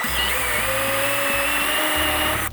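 A power drill with a wood drill bit bores a hole in wood, giving a loud, steady motor whine that runs close and unbroken before cutting off at the end.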